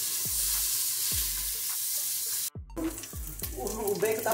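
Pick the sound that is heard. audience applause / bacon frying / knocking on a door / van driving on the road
bacon frying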